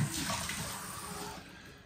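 Cold water runs from a bathroom tap during a wet shave, a steady hissing splash that holds nearly level and fades slightly toward the end, with no voices.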